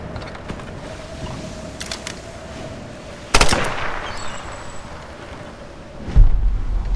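Sparse gunfire in the Tomb Raider action game: one sharp, loud shot cracks out mid-scene and a heavier thud follows near the end, set against a low steady hum and faint mechanical creaks.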